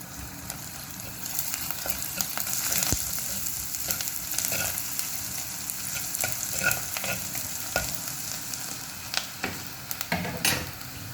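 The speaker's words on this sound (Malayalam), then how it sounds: "ഈ ഉള്ളി വഴറ്റുന്നതിൻ്റെ കൂടെ ഇച്ചിരി ഉപ്പും കൂടി ഇട്ട് കൊടുക്കാം." Onions sautéing with salt in a pan for a dried fish and mango curry, a steady close sizzle and frying hiss with occasional stirring scrapes and clicks throughout.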